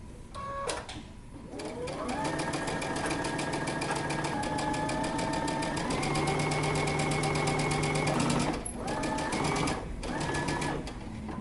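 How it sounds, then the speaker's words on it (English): Sewing machine stitching a dress seam for a Simplicity 8084 pattern, running in a steady mechanical whir with a brief stop-start early on and short pauses near the end, close and fairly quiet. "We're going to sew until you get to that dot for the pocket."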